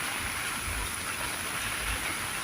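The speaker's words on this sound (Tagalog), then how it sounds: "Tignan nyo po yung bagsak ng tubig dito galing sa taas." Steady rushing roar of water pouring down into a flooded creek during heavy rain, a continuous dense wash with low rumbling underneath and no voices.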